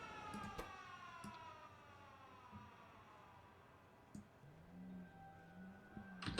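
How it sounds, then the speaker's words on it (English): A faint air raid siren in the video game Factorio wails in the distance, rising and falling slowly beneath quiet background ambience with a few soft ticks and clicks. "Air raid siren?"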